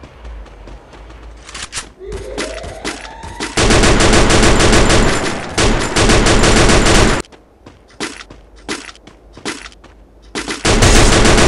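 MP40 gunfire in a video game comes in dense, loud automatic bursts separated by short pauses, with game sound effects between volleys and a voice talking in places.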